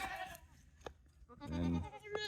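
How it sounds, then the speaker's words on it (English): Goats in a goat shelter bleat, a couple of wavering nasal calls, one louder and closer, with quieter rustling and bleats between them. "now there's the new goats. They have found the goat shelter"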